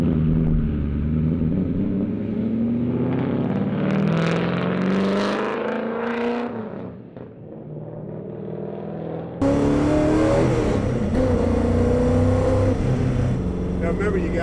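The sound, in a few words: muscle car engine revving during a burnout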